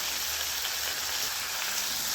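Chicken, onions and vegetables sauté in a pan with a steady, even sizzle that stays constant throughout, close up, with no talking.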